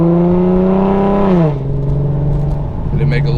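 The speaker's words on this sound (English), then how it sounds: "Got the downshift going okay." An Infiniti G37 with muffler and resonator deleted downshifts nearby, its loud droning exhaust tone dropping in pitch and settling into a lower hum.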